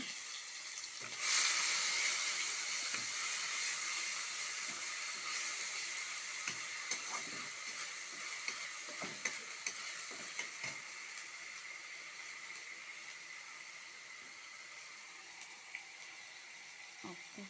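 Ginger, onion and garlic paste sizzles in hot oil with cumin for a fish dish, a steady hissing fry with occasional faint clinks and stirring taps, fairly quiet throughout.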